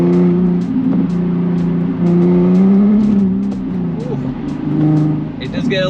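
A 330 hp Infiniti G37s sports coupe is driven hard through snowy turns; its engine rises and falls in revs with a hint of tire noise, close and loud, while someone talks over it.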